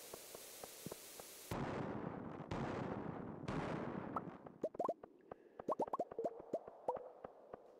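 Bombs burst in a desert mining video game, three quick muffled blasts in a row followed by a scatter of small popping and plopping game sounds, all fairly quiet.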